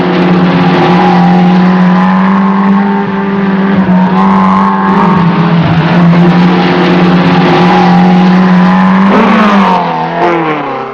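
Porsche rally car engine racing hard on the 1974 Liban Syrie Rally, a loud, steady droning roar held throughout with shifting revs and a rising pitch sweep near the end, no talk over it.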